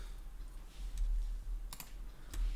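Soft, close clicks from a computer mouse and keyboard during shift-click selection, a few quick taps spaced apart over faint room hiss.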